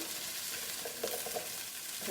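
Vegetables with peppers being stir-fried in a pan, a constant sizzling hiss with soft scraping and tossing knocks near the middle, close up and alone without speech.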